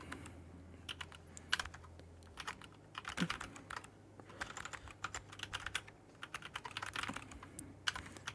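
Slow, uneven typing on a computer keyboard, with individual keystrokes clicking in irregular bursts close to the microphone over a faint low hum, no voices.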